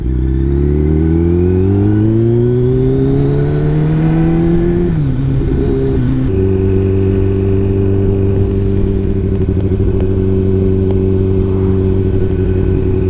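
A Porsche engine holds a steady low idle, then climbs in pitch as it revs and pulls away, with the gear note changing partway through. The sound is loud and close, with no talk over it.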